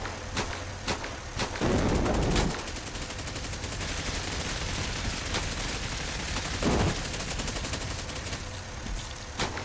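Two mortars fire repeatedly in the Cepheus Protocol horde mode, heavy booms landing around 2 and 7 seconds over a steady bed of distant gunfire and crackling battle noise, with no talk.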